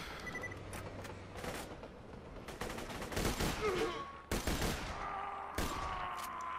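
Rapid bursts of sniper rifle fire in Borderlands 2, sharp cracking shots in quick clusters mixed with other game gunfire and effects.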